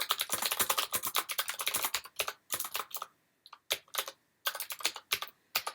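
Rapid bursts of keystrokes on a computer keyboard, close and clear, come in uneven clusters separated by short pauses as text is entered.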